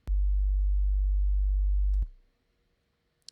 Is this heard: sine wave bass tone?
yes